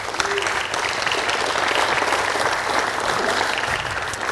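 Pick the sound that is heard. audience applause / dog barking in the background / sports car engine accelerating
audience applause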